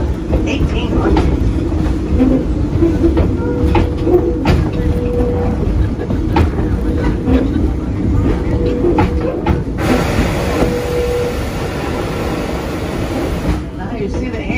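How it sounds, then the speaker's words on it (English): Aboard a heritage steam train on the Torch Lake line, a rumbling carriage ride with rhythmic wheel clicks over rail joints, steady and close, with people talking faintly in the background. "see what it feels like to ride a train like just like back in the 1800s"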